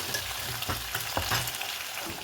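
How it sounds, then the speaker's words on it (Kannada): Peanuts and onion fry in hot oil with a close, continuous sizzle broken by clicks and scrapes from stirring, heard alone without talk. "ಸ್ವಲ್ಪ ಶೇಂಗಾ ಬೀಜ ಹಾಕ್ಕೊತಾ ಇದ್ದೀನಿ. ಒಂದು ಸ್ವಲ್ಪ ನೀರುಳ್ಳಿ ಎಲ್ಲ ಸ್ವಲ್ಪ ಫ್ರೈ ಆಗೋಕ್ಕೆ ಬಿಡಬೇಕು."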